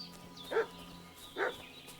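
A dog in Kingdom Come Deliverance 2 gives two short, distinct barks about a second apart, moderately distant and fairly quiet against a soft game ambience.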